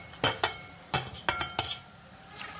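Eggplant goes into a pan and gets stirred for Maharashtrian baingan bharit: a few light clinks and scrapes of a spoon against the cookware at irregular intervals, quiet and close, with a soft sizzle underneath.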